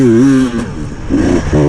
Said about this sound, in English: you can just sit down, get on that throttle.